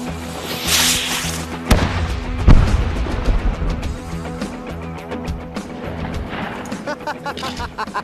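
Loud rushing launch of a Congreve rocket followed by sharp booms and crackling bursts as it explodes, several blasts over a noisy, rumbling background.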